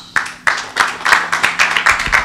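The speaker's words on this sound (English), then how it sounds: "Great round of applause for Ashu." An audience claps for Ashu on stage at a live dialogue event, a loud burst of applause starting sharply and continuing as steady close-up clapping with no speech.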